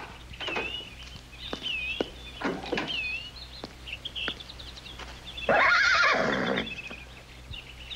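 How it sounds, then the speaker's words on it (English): A horse whinnies loudly in a Western film scene, one long high neigh standing out amid hoof clip-clops, scattered knocks and light bird calls. "Looks like a fine horse."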